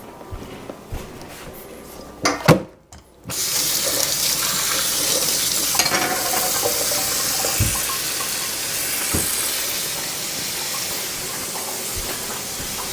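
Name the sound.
tap water running into a pot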